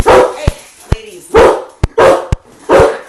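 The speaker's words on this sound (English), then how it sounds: "We are going to have dogs from time to time barking" A Great Dane barks loudly and close by, giving four deep, evenly spaced barks with sharp clicks and knocks between them.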